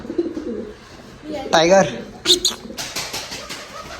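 Kept chocolate and black pigeons coo and flutter close by in a pen, a brief burst of soft calls followed by scattered rustling, with someone talking over them.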